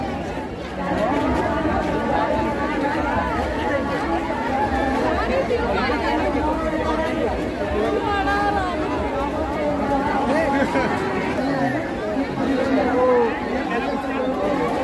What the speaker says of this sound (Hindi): बहुत भीड़ है।